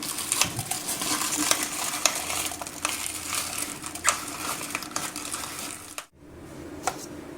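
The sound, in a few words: food chopper chopping green chillies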